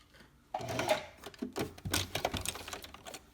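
A sewing machine stitches through the layers of a baby sleeper in short, quick rattling bursts, close and fairly quiet, starting after a brief silence, with no talking.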